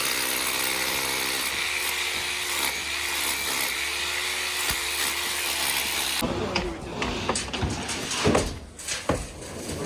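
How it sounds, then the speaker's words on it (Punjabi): Hammer drill breaking down concrete stairs inside a house, a loud continuous pulsing rattle for several seconds that then gives way to irregular knocks and clatter of breaking material. "ਹੈਮਰ ਵਾਲੀ ਡਰਿੱਲ ਆ ਬਾਈ ਇਹ ਵਾਈਬ੍ਰੇਸ਼ਨ ਗੇਲ ਫਿਰ ਮਿੰਟਾਂ 'ਚ ਮਾਰਦੀ ਕੱਢ ਕੇ"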